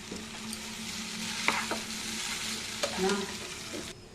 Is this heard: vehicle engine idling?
no